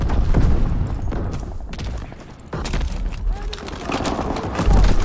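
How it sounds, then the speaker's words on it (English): Loud, dense battle noise in Call of Duty WWII as a bridge is blown up: heavy booms and rattling gunfire pile together without a break, a sharp explosive hit arriving in the middle, all rough and close. "They detonated one of the bridges!"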